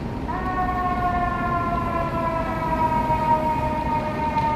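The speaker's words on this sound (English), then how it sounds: "Comes an ambulance" An ambulance siren wails steadily in downtown Chicago with a sustained, slightly shifting tone, moderately distant over low traffic rumble, with no voices.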